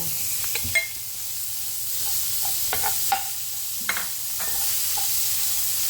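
Bagoong alamang (shrimp paste) fries in a pan with a steady close sizzle, broken by several clinks and scrapes of a spatula stirring it.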